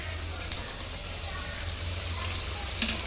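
Second batch of chicken pakodi frying in hot oil, a quiet steady sizzle and bubbling continuing throughout, with a brief louder crackle near the end.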